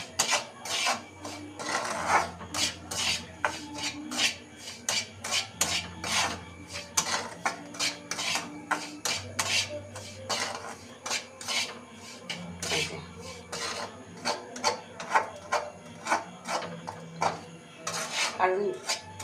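Semolina (suji) is being dry-roasted and stirred in a pan with a spoon, making a steady, rhythmic scraping and rasping that continues throughout, with a voice speaking at times underneath.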